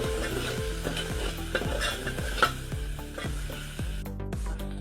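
Masala frying in oil for mutton curry over a wood-fired stove sizzles steadily, broken by regular rhythmic scrapes of a spoon stirring in the pot, close and fairly quiet.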